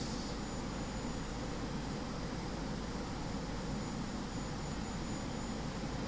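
An airliner taxis at Bucharest airport after arriving from Thessaloniki, heard from inside the cabin as a steady, even engine roar and broadband rush with a faint high whine, unchanging throughout and with no talk.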